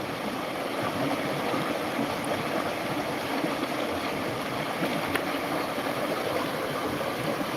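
A natural mountain river rushes and burbles continuously in a steady, broadband wash, flowing nearby with no pauses.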